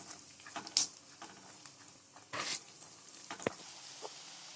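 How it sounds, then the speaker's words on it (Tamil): Peeled garlic cloves sautéing in oil over low heat for garlic pickle, a soft faint sizzle broken by a few sharp spatters and stirring scrapes, close by. "சிம்ல வச்சு பூண்டை நல்லா வதக்கிக்கோங்க."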